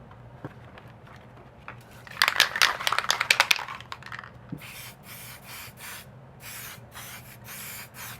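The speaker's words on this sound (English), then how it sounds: "that's another great thing about the Liquitex spray paint is that it's really opaque" A rattle of short, rapid bursts comes first, then Liquitex spray paint hisses from the can in a string of close, even bursts with brief gaps between them.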